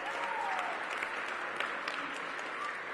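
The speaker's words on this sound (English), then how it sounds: "give them a big round of applause." Crowd at an outdoor ribbon-cutting for a recreation center claps steadily for neighborhood commissioners, a broad even wash of applause with a faint tonal whistle early on, no talk.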